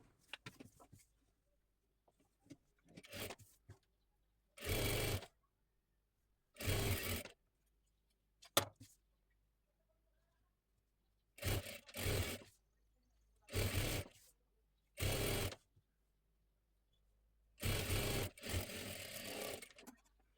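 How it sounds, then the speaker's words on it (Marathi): A sewing machine stitches around the full hem of a dress cut from a saree, whirring in separate short bursts with silent pauses between them, close by and with no talking. "अशी शिलाई देऊन घ्यायची आहे पूर्ण घेरला"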